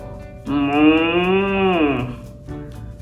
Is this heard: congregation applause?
no